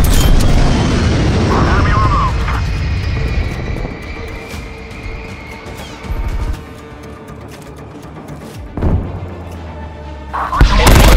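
Explosions from a ground attack strike in Black Ops Cold War, loud deep booms and crashes with aircraft roar, several separate blasts spaced across the stretch, with radio voices speaking between them.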